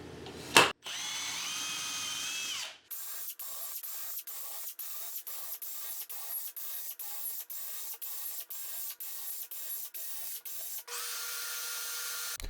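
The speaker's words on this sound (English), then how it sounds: "They make a much cleaner hole in wood than the other standard drill bit does." A drill with a brad point bit whirs through wood in a steady series of short bursts with brief gaps between them, loud and close, and no talking.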